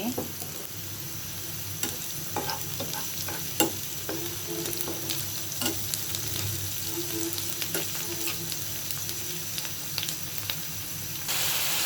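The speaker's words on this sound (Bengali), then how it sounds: "আমি পেঁয়াজ কুচি রসুন কুচি তেলে বেজে নিচ্ছি" Chopped onion and garlic fry in hot oil for a Bengali prawn do-pyaza, a steady close sizzle and hiss broken by scattered clicks of stirring.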